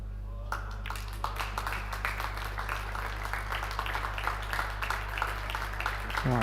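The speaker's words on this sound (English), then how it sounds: "I do hear some claps in the background" Faint audience clapping at a 9-ball pool championship, a scattered run of light claps sounding distant over a steady low hum, with brief talk at the very start.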